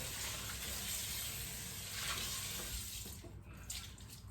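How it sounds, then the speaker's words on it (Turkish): Water runs steadily from a kitchen tap while a baking tray is rinsed and scrubbed beneath it, a continuous close hiss that shifts slightly near the end. "Tepsini bir köpükleyeyim."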